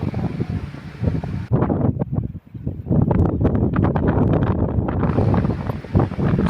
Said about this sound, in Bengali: ফুরফুরে হাওয়া